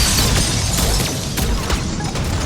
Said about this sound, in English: All those area effect explosions and powers, we can kill stuff a lot quicker than shooting at